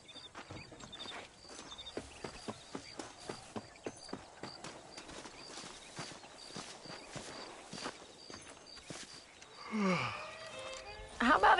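Horse hooves clip-clop at a steady walking rhythm while riding in the Western game Red Dead Redemption, the regular beats fairly close. Ambient game sound runs underneath, and a voice briefly comes up near the end.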